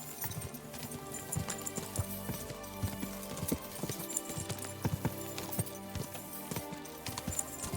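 A horse gallops in Kingdom Come: Deliverance II, its hooves sounding a rapid, repeated clip-clop alongside rattling tack. The sound stays fairly quiet over a busy layered game backdrop.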